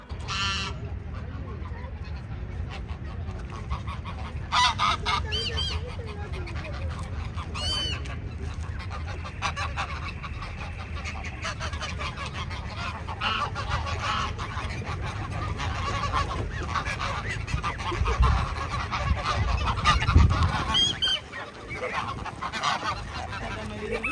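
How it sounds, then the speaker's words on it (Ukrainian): Geese honk repeatedly at close range in a park beside a lake at Pamukkale, Turkey, with loud overlapping calls scattered throughout amid outdoor background noise and occasional nearby voices. "в цьому парку окрім озера, є ще велика кількість гусей і навіть трошки качок."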